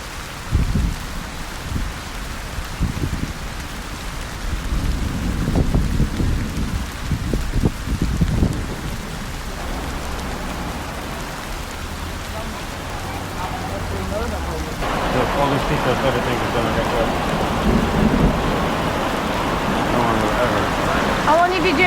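Mediterranean rain falls steadily on an island, with low rumbles of thunder rolling through the first half and the downpour growing heavier and louder toward the end; no voices are heard.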